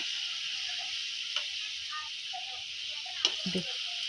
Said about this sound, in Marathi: सोनेरी कलर येपर्यंत आपण तळून घेऊ.